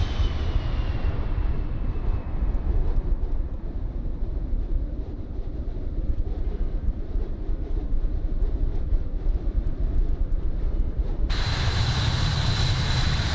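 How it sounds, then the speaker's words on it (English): Airliner in Microsoft Flight Simulator, flying between Billund and Vágar in the Faroe Islands, passing by as a steady, loud engine roar with a slowly falling whine that gives way to a sudden brighter hiss near the end. "there goes another flyby view of our aircraft"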